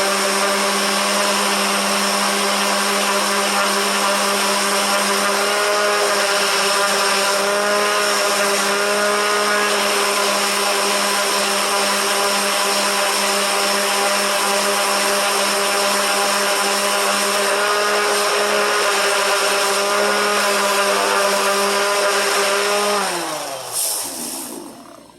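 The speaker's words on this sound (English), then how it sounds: "Hit it with the sander real" A power sander runs on wood for a Halloween lantern box, a loud steady whine with strong tonal hum held for over twenty seconds, then it winds down at the end; no voices.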